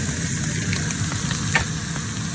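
Vegetables and potatoes sauté in a hot pan with a steady close sizzle, broken by a few soft scraping stirs and light knocks of a utensil.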